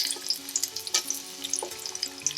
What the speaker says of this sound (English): When the oil is hot, we'll add the sliced ginger and hot pepper.